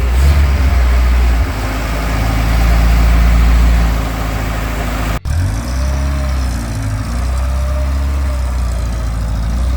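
An FSO car engine, an old Polish Żerań-built model, idles with a steady low rumble close by; a brief cutout midway, then the idle continues with a slightly different tone and faint background noise.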